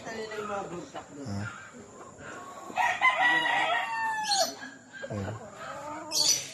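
Chickens cluck close by while a rooster crows, with people talking over the farmyard noise.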